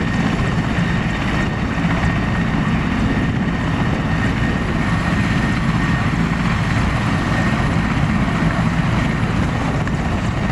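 A Mi-17 helicopter taking off, its rotor and engine roar steady, loud and close throughout with a constant thumping drone and no pauses, with no voices over it.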